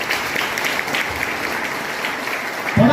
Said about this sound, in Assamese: তালি নবজাই দিয়ক